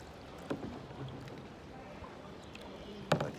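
Kayak paddle strokes splash in calm water around the Louvre Abu Dhabi, two sharper dips standing out against a faint, steady background wash, with no voices.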